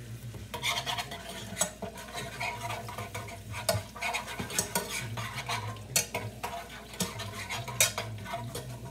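Metal whisk scraping and clattering steadily against a pan of homemade enchilada sauce with cumin, with rhythmic rasping strokes close up and continuous stirring noise throughout.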